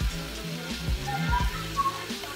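Yellow and green peppers with diced onion sautéing in butter in a pan, a steady crackling sizzle close up with no talking.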